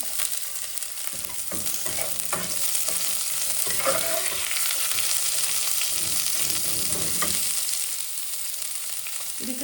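Crushed garlic and chopped onion fry in a pan for clams sukka, giving a steady close sizzle with scraping stir strokes throughout.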